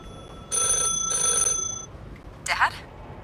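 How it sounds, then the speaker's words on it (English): Two bursts of an old-style telephone bell ringing in the game The Last Caretaker, each about half a second to a second long, bright and fairly loud, followed by a short fainter noise. "if you come up here where the phone is ringing"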